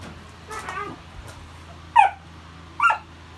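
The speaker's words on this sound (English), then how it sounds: "Excuse my dogs, they're right outside the greenhouse playing." Dogs playing just outside a greenhouse give a few short sharp yips and whimpers, two distinct high-pitched cries standing out after a softer whine, fairly close by.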